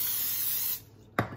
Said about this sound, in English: I'm going to spray again very lightly with the avocado oil.